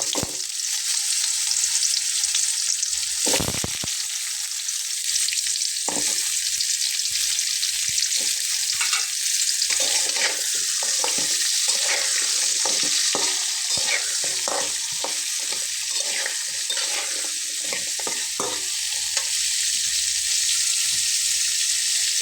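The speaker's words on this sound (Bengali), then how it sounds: "এখন আমি এই তেলটার ভেতরে দিয়ে নেব 2টা শুকনো মরিচ এবং আলুগুলো দিয়ে নেব" Dried red chillies and potato pieces fry in hot oil for a Bengali vegetarian potato and bean chochchori. A loud, steady sizzle runs throughout, with scattered clicks and scrapes of stirring and no talking.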